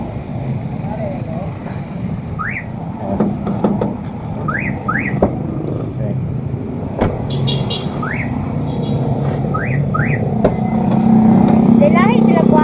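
A car alarm on a van chirps in repeated rising bursts amid traffic noise and nearby talking, with a steady tone emerging near the end.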